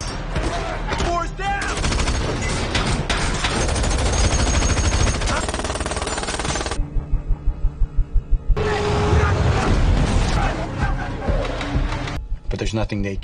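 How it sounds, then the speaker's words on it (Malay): Gunfire from an action film about robbers and a shootout erupts in rapid bursts, including a sharp evenly spaced volley, mixed with loud dramatic music and a voice speaking over the scene. "Tanpa disadari, Dakrim menembak Patrick dari belakang"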